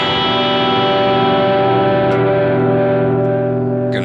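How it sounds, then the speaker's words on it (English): Sustained crunchy electric guitar chord through a Natural amp and an X Crunch amp, miked in stereo on a BOSS GT-1000 rig, ringing loud and slowly decaying, with a few faint pick scrapes near the end. "in this case I've got an X crunch with my natural, so the natural's up the middle with 2 mics on it"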